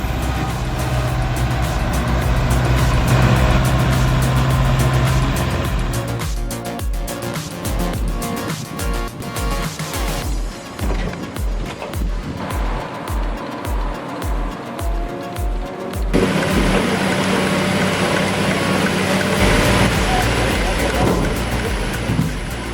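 A Zator 6211 tractor of about 60 horsepower hauls 15,000 pounds of processed wood out of a forest over rough terrain, its loud engine rumbling and pulsing unevenly while a voice talks over it throughout.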